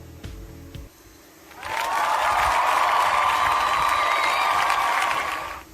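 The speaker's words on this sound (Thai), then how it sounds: "ขอเสียงปรบมือให้กับ ทุกๆคนด้วยนะครับ" Students in a primary-school class burst into applause after a short quiet opening. The broad, sustained clapping swells in and holds steady, loud and even, until the end.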